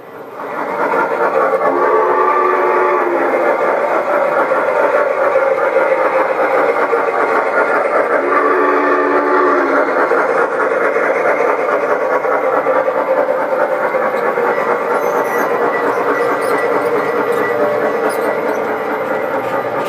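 G gauge garden railway model trains run on an outdoor layout, producing a loud, continuous mechanical rumble and whir, with a few brief tonal chirps early on and a steady drone throughout.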